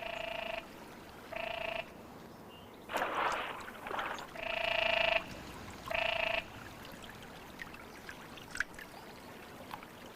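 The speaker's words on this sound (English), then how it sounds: "the male's croaks resound across the water" Loud frog croaks ring out in long, buzzing bursts, four or five of them spaced a second or two apart, with water splashing and quiet pauses between.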